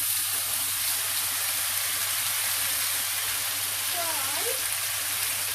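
Drained canned chicken frying in leftover oil in a pan, a steady, even sizzle that carries on without a break for the whole stretch, with no talking over it.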